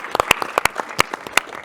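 Applause at a Bitcoin conference open-source stage, a small audience clapping in sharp, irregular separate claps, close and fairly loud, without voices.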